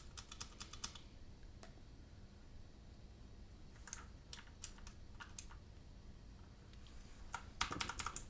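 Clicky blue Utemu switches on a mechanical keyboard are typed in quick bursts of crisp clicks, close and fairly quiet, with pauses between flurries.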